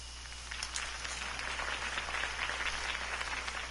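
Crowd applause from a political campaign rally in the Batman Telltale video game, a steady dense wash of clapping that stays at an even level throughout with no speech over it.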